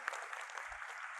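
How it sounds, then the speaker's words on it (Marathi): An audience breaks into brief, dense applause, a short burst of many hands clapping at a school event. "जोरदार टाळ्या वाजवा"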